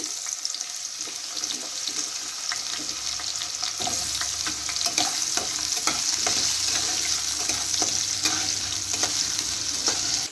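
Potatoes and bay leaves fry in hot oil for a Bengali mixed vegetable curry, a steady loud sizzle with scattered crackles and occasional stirring scrapes, no talk.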